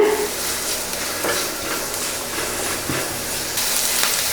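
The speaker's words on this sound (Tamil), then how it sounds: "இந்த வெங்காயம் வந்து நல்லா வதங்கி வரட்டுங்க" Onions sautéing in a pan for a bread chilli snack give off a steady, close sizzle with a dense, even hiss throughout, brightening slightly toward the end.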